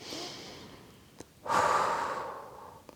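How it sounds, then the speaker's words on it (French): A single deep breath: a soft intake followed by a long, fairly close exhale that lasts over a second, alone with no talking. "je vous invite à prendre une grande respiration avec moi"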